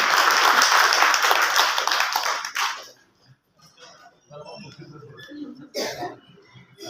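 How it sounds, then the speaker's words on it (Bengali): An audience at a formal ceremony claps together, a dense burst of applause for about two and a half seconds that stops abruptly, followed by quiet room noise and a few scattered sounds. "সবাই একটা করতালি হবে জুড়ে।"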